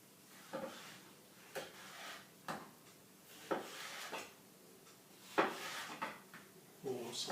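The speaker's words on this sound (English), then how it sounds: "And I cut it into slices first." A knife slices a cucumber on a cutting board in a home kitchen, producing about eight sharp, separate taps spaced unevenly, close and fairly quiet.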